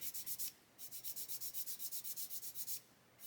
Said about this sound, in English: just letting the sanding stick do the work